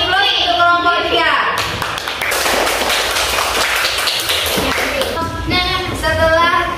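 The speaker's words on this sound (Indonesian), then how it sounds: "Aplaus untuk kelompok 3" Students in a classroom break into a burst of applause for a presenting group, several seconds of dense, rapid clapping sandwiched between a teacher's speech at the start and end.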